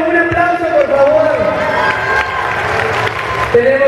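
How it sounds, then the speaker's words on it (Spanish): Audience applause and cheering at a live band concert at a festival in Tlalnepantla. Steady crowd clapping and shouts sit close under a loud voice. "Un aplauso, por favor."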